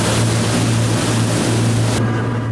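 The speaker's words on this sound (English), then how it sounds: "the sound of seawater splashing on the sides and windows of the boat, the Icelandic engine noise" Steady drone of a speeding tour boat engine on Icelandic seawater near Vigur island, with continuous water rushing and splashing against the hull and windows, loud and close throughout.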